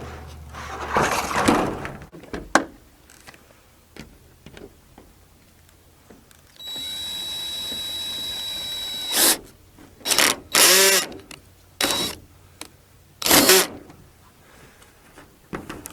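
Several short bursts of a cordless drill, set at 3.5, whirring as it drives screws into wood for a log cabin style garden shed: one longer steady run, then quick stop-start pulses, close by with quiet gaps between.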